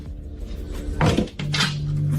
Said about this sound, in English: Various pull-out drawers.